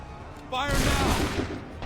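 A musket volley in Assassin's Creed 3, a single massed crack of many muskets firing at once that rolls into a long rumbling roar, loud and close, just after a shouted command.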